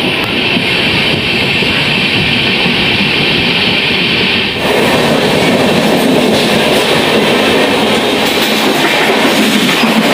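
Gitanjali Express heard from inside the coach, a loud steady rumble of wheels and carriage noise that grows rougher midway, with continuous rattling throughout.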